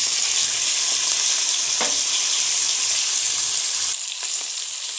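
Brinjal fries in a pan with garlic and salt, giving off a loud, bright, continuous sizzle, with a couple of quick stirring scrapes before the hiss eases slightly near the end.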